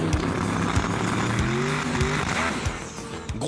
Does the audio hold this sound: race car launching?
yes